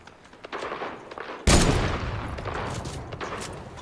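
Pistol gunshots ring out in a Fortnite match: a sharp, loud blast followed by a burst of rapid shots and rumbling game noise, with quieter shots and movement sounds before it.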